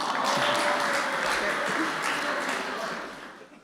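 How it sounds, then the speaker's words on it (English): Wedding reception guests applaud for the grandparents of the bride and groom, a dense wash of clapping that starts loud and thins toward the end, with faint voices underneath. "One more time, a round of applause,"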